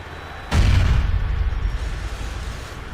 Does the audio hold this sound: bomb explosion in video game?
yes